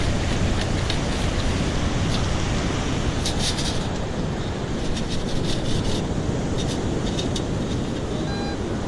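A metal detecting scoop gets rinsed in ocean surf at Ponte Vedra Beach, Florida, with a steady broad wash of waves and swishing water carrying through, scattered metallic rattles and clinks, and wind rumble against the microphone.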